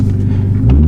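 A BMW F30 335i with a check engine light on turns over and settles into a deep, loud, rumbling idle, heard up close and without voices for under a second.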